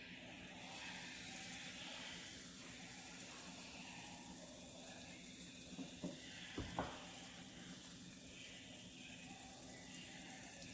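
Banana pancake batter sizzling in a hot pot, a steady close crackling hiss running evenly throughout, broken only by a couple of faint knocks partway through.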